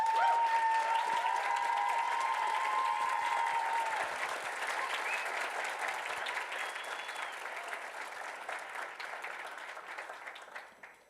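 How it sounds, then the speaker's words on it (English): An audience at a Fourth of July Funfest coronation event applauds in a sustained round of clapping, loud at first and then slowly tapering off, with faint whistles mixed in. "Please join me in giving a round of applause one last time for our 2021 Eagan Funfest ambassador family."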